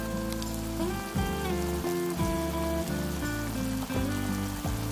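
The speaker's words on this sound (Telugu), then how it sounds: "దాన్ని మనం గారెలుగా వేసుకొని ఇలా ఆయిల్లో వేసుకోవాలి" Black-eyed pea fritters (bobbara garelu) frying in hot oil make a steady, dense sizzle and crackle throughout. The sound is close and continuous, with no speech.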